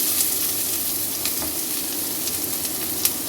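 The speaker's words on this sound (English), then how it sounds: "While saute onion and garlic" Onion and garlic sizzle steadily in olive oil in a hot pan, a constant bright crackle with an occasional small pop, close by and without talk.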